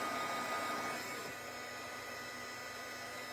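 A craft heat tool blows steadily while drying a handmade piece, a close, even whooshing hum that eases slightly after the first second and then holds constant, with no voices.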